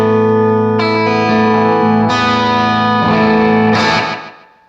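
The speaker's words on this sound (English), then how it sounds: "what a great sounding slapback" An electric guitar plays sustained, distorted chords through a Danelectro Dan-Echo delay pedal set to a short slapback echo, with the last chord ringing out and fading.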